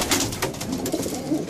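Pigeons coo steadily in a loft, a continuous chorus of soft, rounded, repeating calls from several birds close by, with no talk over it.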